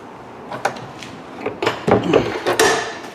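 A front-mounted toolbox door on a utility trailer swinging open, with several sharp wooden or metal clunks and rattles close by, the loudest knocks coming in the second half.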